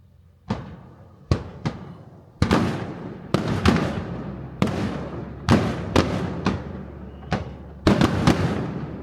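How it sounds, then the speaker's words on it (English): Summer fireworks in Japan burst repeatedly, sharp booms at irregular intervals with crackling and rumbling decay between them, loud and fairly near. "Waiting on the fireworks now."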